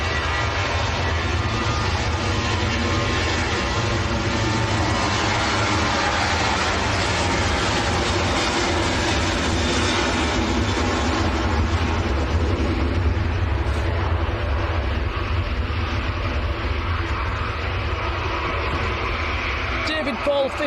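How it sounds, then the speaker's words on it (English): A Ryanair jet bound for Faro takes off at Manchester Airport with a steady, loud, broadband roar that holds for the full length and eases slightly near the end. "There goes Ryanair to Faro."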